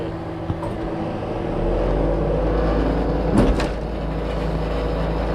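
A concrete pump's engine idles with a steady low rumble throughout, louder from about 1.6 seconds on, with a brief surge near 3.4 seconds, while pumping concrete for a boat ramp beside rising water.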